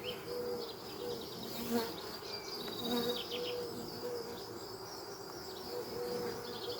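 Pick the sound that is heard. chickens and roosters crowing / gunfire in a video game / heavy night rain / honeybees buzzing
honeybees buzzing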